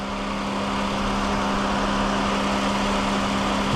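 A 2016 Honda Accord EX-L with a 3.5-liter V6 runs at a smooth, steady idle, a constant close hum with a faint tonal drone and no change in pitch.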